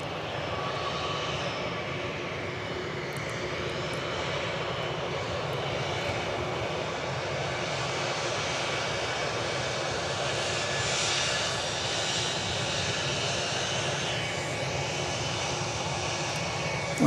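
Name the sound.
American Airlines Airbus A321 airliner on runway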